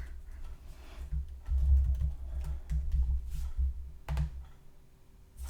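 Someone types in quick irregular bursts on a computer keyboard while setting up an iOS Swift app, soft close clicks and taps over a faint steady hum.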